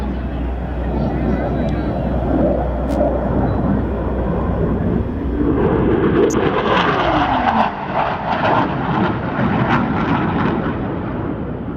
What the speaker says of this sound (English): High-speed pass from your left.